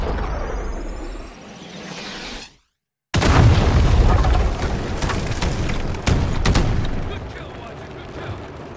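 Artillery fire strike in Call of Duty Modern Warfare hammering troops in the open north of a bridge: a rising whistle, a brief silent gap, then loud sustained booming explosions and rumbling blasts with sharp cracks, under faint radio voices.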